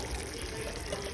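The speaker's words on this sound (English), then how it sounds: "I'm going to pour the Del Monte diced tomatoes in here now" Del Monte diced tomatoes pour from a can into a cooking pot in a home kitchen, giving a brief, close, wet glugging splash that lasts about a second.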